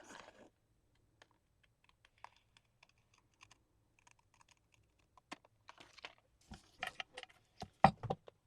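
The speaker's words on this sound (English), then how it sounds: "use my scissors and trim along the flap" Scissors trim along the flap of a paper envelope: a faint series of small crisp snips and clicks, sparse at first, then quicker and louder near the end, heard close in a quiet room.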